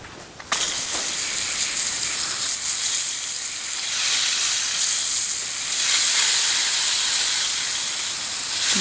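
Water rinsing rust remover off a drill press part from a post drill being restored, a loud, steady spraying hiss that starts abruptly and continues unbroken.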